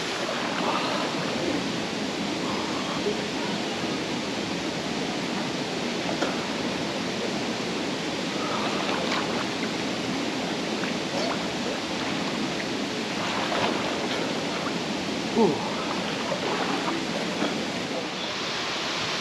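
A steady, broad rush of falling water roars continuously, dense and unchanging, from a waterfall on Koh Chang, Thailand, heard from nearby.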